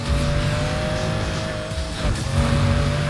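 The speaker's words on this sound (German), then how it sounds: "Wir müssen aber anbremsen und das fahren wir nur noch 270, damit er die Kurve kriegt" A Lamborghini Countach in the racing game Need for Speed Heat brakes hard into a corner, a steady engine drone with tonal whine and tire squeal, loud and continuous with a brief dip before the engine picks back up.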